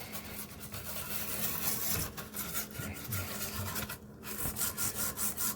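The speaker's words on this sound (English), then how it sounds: "it literally comes down to just start scrubbing" A brush scrubs a motherboard wet with rubbing alcohol, making close, steady rhythmic rubbing and scratching strokes throughout, quiet overall with no talking.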